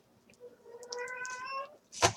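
A domestic cat indoors lets out one drawn-out, rising meow, clear and fairly close, followed by a sharp noisy burst at the end.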